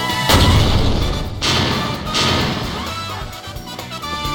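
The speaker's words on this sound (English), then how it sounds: "At the same time, a series of explosions rock the ground." A series of explosions rocking the ground in the video game Code: Realize, with several heavy booming blasts and rumbling crashes in quick succession, loud and close, no voices.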